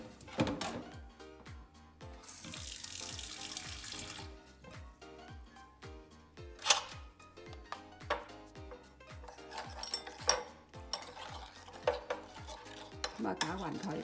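Seasoning for Singapore fried rice noodles is stirred in a bowl with a utensil, with light soy sauce and a little water. Repeated scraping and clinking strokes come at a steady, quick rhythm, close and clear, with no talk.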